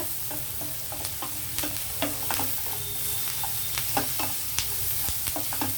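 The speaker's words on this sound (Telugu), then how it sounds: "ఉల్లిపాయలు కొంచెం బాగా మగ్గనిద్దామండి" Onions sauté in oil for an aritikaya (raw banana) fry, giving a continuous close sizzle. Regular spoon clicks and scrapes against the pan break through it, and there is no talking.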